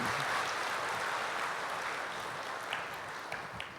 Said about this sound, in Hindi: जोरदार अपने लिए ताली बजाओ।